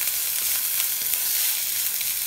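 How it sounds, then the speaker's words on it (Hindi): Onion and vegetables stir-frying in a hot pan for street-style veg chowmein, giving a steady, close, bright sizzle with faint scraping stirs throughout and no talking. "इसे बस 1 मिनट तक भून लेते हैं, उसके बाद इसमें बाकी की सब्जी ऐड करेंगे।"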